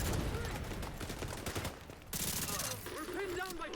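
Turret gunfire at the main gate in a video game: dense, continuous rapid shots for nearly four seconds, with a brief dip around the two-second mark, alongside other game sounds and voices.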